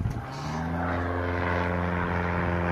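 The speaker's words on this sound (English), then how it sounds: "There's somebody playing in their airplane." A propeller airplane drones overhead near the Fire Island Lighthouse, its steady harmonic engine tone loud and continuous with a slight pitch shift as it passes.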